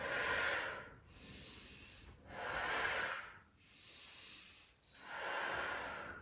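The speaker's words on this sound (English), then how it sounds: "We're going to breathe out, breathe out, breathe out." Slow, deep exhalations during a Pilates workout come as three long, breathy rushes of air. They are close and fairly soft, separated by quiet pauses, with no talking.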